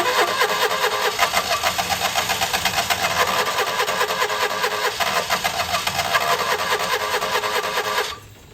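Citroen 2CV engine cranking and catching with the choke pulled, a steady loud rhythmic chugging for about eight seconds before it suddenly cuts off and drops away.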